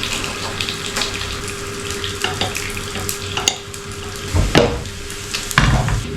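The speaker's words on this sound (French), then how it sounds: "qu'on va venir faire chipser dans notre poêle" Slices of chorizo frying in a pan give a steady close sizzle, with clinks and a couple of louder knocks of utensils or cookware near the end.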